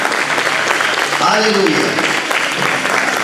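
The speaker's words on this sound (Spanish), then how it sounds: "¿Cuántos le van a dar un aplauso al Señor?" A church congregation applauding in a steady broadband clatter that fills the room, while a voice speaks over it.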